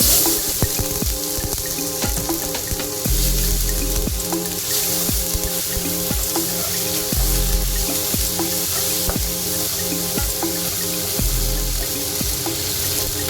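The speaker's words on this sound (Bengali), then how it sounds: "এবার ভেজে দিচ্ছি কুচি করে রাখা টমেটো" Chopped tomatoes fry in hot oil in a pan alongside potatoes for a Bengali mustard rohu curry, giving a steady, loud hissing sizzle with occasional clinks and scraping, continuous throughout and with no talk.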